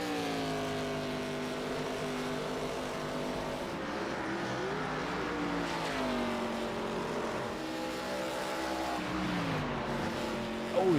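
A Pro Cup Series race car at speed on the Dover oval: a loud, steady harmonic engine roar whose pitch sags several times as the driver lifts off the throttle, then climbs again, with no voices.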